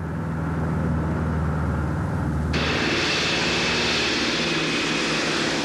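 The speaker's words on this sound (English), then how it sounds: "Donald Douglas, who back in 1930s designed an airplane that just couldn't be beat." Douglas DC-3 airplane engines droning in flight, a loud, steady propeller roar that holds throughout and grows brighter and fuller about halfway through, with no voices.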